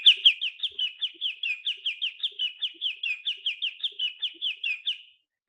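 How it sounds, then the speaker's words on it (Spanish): A small bird chirps in a quick, regular series of about twenty sharp, bright notes, close and clear against silence, ending abruptly after five seconds. "Y ahora van a escuchar entonces el pajarito."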